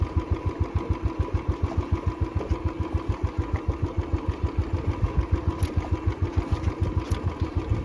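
A motorcycle engine runs steadily while the bike rolls down a long mountain slope on a high-altitude road, giving a close, rapid, even thumping pulse with no talk over it.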